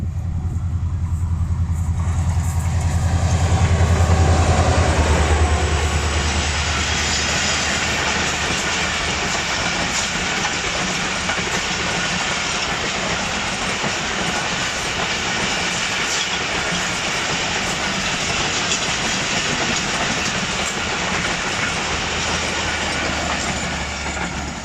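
A Shalimar Express passenger train passes through Mando Dairo railway station near Rohri, a steady loud rumble of rolling wagons and clattering wheels sustained throughout, with a heavier low drone near the start.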